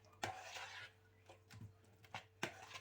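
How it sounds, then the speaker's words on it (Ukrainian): A few soft scraping clinks of a spoon stirring chopped tomato and other breakfast ingredients in a bowl, quiet and close, spaced irregularly over a low background hum. "перемішуємо"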